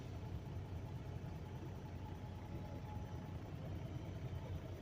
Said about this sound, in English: That is a Kenworth.